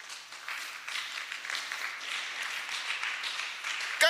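Scattered applause from a church Sunday school congregation, a soft steady patter of clapping at moderate distance that continues evenly throughout.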